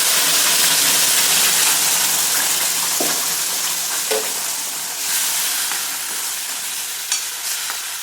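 Ground masala paste sizzles hard in hot oil tempering for a bottle gourd curry, a loud, steady frying hiss that eases slightly over time, with a few soft stirring scrapes.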